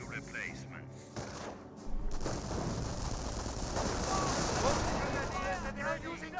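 MP40 submachine guns fire in the WWII strategy game Company of Heroes, a dense crackling run of rapid shots building under the battle noise while someone talks over it.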